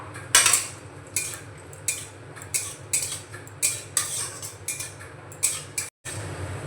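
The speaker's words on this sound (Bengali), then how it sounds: "প্রথমে আমি কাজু আর কিশমিশটা হালকা ভেজে নেব।" Cashews and raisins fry lightly in ghee in a kadai while a spoon scrapes and clinks against the pan in irregular bursts over a steady low hum, with a soft sizzle underneath.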